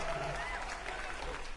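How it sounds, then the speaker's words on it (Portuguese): An audience at a circus claps for a five-year-old boy, a brief burst of dense applause from the seated crowd with voices mixed in. "Palmas por 5 anos dele. Palmas pro Carlinhos."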